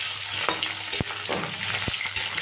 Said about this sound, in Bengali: এই ক্যাপসিকামটা ফোড়নের সাথে একটু হালকা ভেজে নেবো